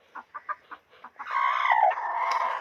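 Asil rooster in a hen house giving a few short clucks, then breaking into a long, loud crow that carries to the end, close to the listener.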